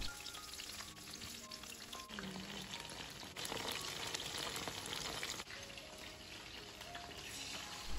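Chicken pieces frying in hot oil with curry leaves and green chillies for fried rice, a steady loud sizzle running throughout with brief stirring clatter and a surge as more goes into the pan.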